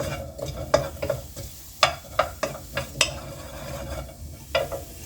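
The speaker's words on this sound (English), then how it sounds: "Alright, in the onions in. Let's give them a little stir." Onions sizzling steadily in a hot pan while a utensil stirs them, sharp scraping clicks popping out irregularly over the continuous frying hiss, close and clear.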